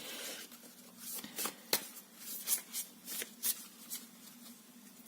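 Tarot cards shuffled and laid out by hand, a run of crisp riffling bursts and soft slaps in an uneven rhythm, close and fairly quiet, with no talk.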